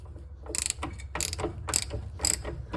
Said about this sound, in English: So let's remove those 3 bolts and see if we can get this out.